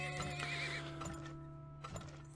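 A horse neighs in the oil-drilling video game Turmoil, a clear whinny rising and falling over steady game music, with soft clip-clop hooves and short game effects beneath.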